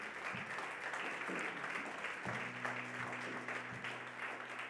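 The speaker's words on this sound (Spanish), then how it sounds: "Fuerte ese aplauso al Señor." A church congregation in Barcelona applauds during a sermon, with steady, even clapping at moderate volume and a low hum underneath.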